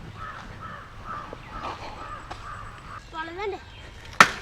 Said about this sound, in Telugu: పక్షులు సౌండ్లు తప్ప ఏమి అనిపించట్లే.